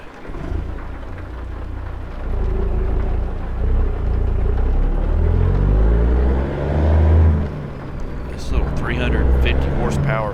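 A clapped-out Peterbilt 359 truck with a small cam Cummins engine labours in a video game, its deep rumble rising and falling as it strains under load. Someone talks over the engine throughout.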